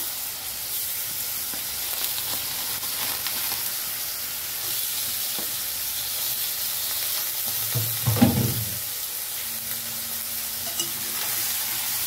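Fish pieces dropped one at a time into a hot pan of sautéed masala for a home-style fish curry, giving a steady close sizzle with a louder burst of frying near the middle.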